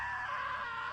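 A single sustained, loud scream from a character in the video game What Remains of Edith Finch, held steadily for the whole second with no other sounds.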